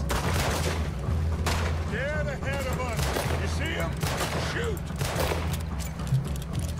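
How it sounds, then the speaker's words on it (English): Rapid gunfire in Red Dead Redemption 2, shots cracking repeatedly in quick bursts at close range over steady low rumble, with voices talking and calling out through the shooting. "Don't worry, Dutch. I am shooting as fast as I can."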